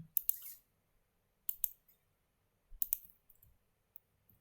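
Keyboard keys click in a few quick clusters, short close taps of a Ctrl+S press separated by silence in a quiet room.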